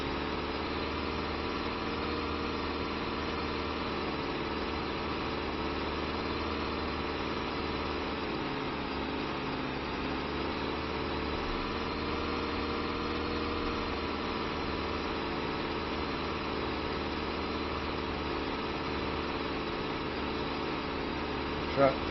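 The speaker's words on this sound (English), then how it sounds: "Tractor working well as it can as well." A Ford TW35 tractor pulls a Rabe plough in Farming Simulator 25, its engine droning in a steady, unbroken hum at constant revs throughout, with no clear changes in load.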